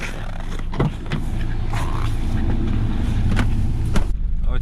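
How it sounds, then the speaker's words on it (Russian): A car drives off in deep frost, around minus fifty, on frozen, flat-spotted tyres, with a steady close engine and road rumble inside the cabin and a few faint clicks and thumps. "Сейчас поедем, это наверняка почувствуем, что вот резина становится квадратная."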